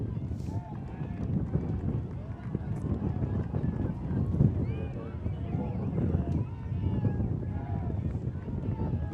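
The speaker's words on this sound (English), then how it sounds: "The wind is picking up" Wind buffets the microphone at an outdoor women's club ultimate frisbee championship game, a steady low rumble running throughout with faint voices and field sounds underneath.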